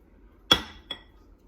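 A metal ice cream scoop knocks into a glass while serving low-carb strawberry whipped ice cream, one sharp bright clink followed by a softer second tap, close up with no talking.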